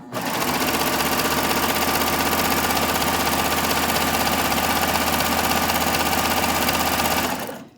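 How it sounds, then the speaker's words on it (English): A sewing machine runs at medium speed stitching a rolled hem on a tee, a continuous close, loud mechanical whir with a fast steady pulse and no pauses. "I don't like to go too fast with this rolled edge. I have my machine set on about a medium speed."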